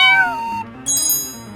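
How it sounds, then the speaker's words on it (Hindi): A kitten gives a short, high meow, then a second cry after a brief gap, both near and clear with no talking over them. "कहाँ गया बिल्ली का बच्चा?"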